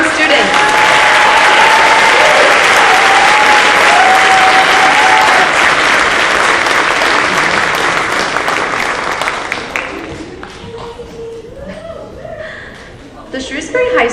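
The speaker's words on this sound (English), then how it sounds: "Ladies and gentlemen, a round of applause for the first ever seal of biliteracy confirmed student." Audience at a school world language awards night applauding a student, loud dense clapping with some chuckles, fading over the last few seconds as a voice begins speaking.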